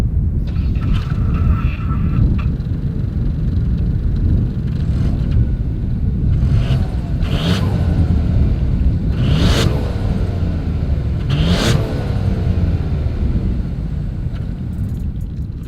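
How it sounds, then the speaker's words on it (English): Dual exhaust of a 2021 Ford Bronco Sport rumbles at a close, steady idle, broken by three or four short, sharp revs in the second half. "As always, here is that exhaust clip."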